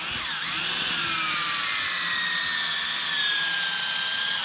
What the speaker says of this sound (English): we're going to put this screw into that stud.